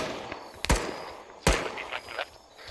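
Gunfire in the Arma 3 military simulation game: two sharp, loud shots about a second apart, each with a short echoing tail, followed by fainter scattered distant reports.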